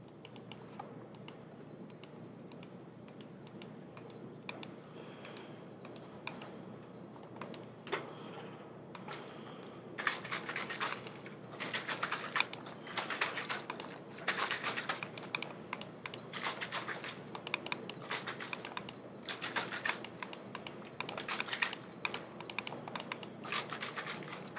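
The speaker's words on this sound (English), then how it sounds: "for some reason, I love the sound of a mouse just like." Clicks and taps from a computer mouse and keyboard, quiet and sparse at first, then a busier, louder run of close, rapid clicking from about the ten-second mark, heard alone without talk.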